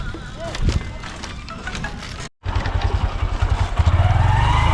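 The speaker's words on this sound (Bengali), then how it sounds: "তো কিভাবে বাইক নিয়ে যাচ্ছে সব।" Motorbikes crossing a river in a rural village, engines revving and putting close by, growing louder toward the end, with people talking and a brief cut midway.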